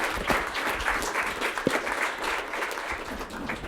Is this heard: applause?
yes